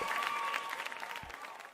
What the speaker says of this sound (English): Give that man a hand clap.